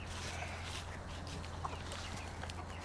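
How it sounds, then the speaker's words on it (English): Farm chickens cluck and murmur softly while coming out to meet a newly arrived goat, a busy, low chatter of hens over steady outdoor background noise, with no talking. "the chickens are coming out to meet her"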